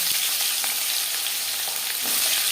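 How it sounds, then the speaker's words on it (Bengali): Mustard oil heating in a pan for a fish curry, a steady loud hiss of sizzling with faint crackles, close and continuous with no talk. "তেল আমি গরম করে নেব।"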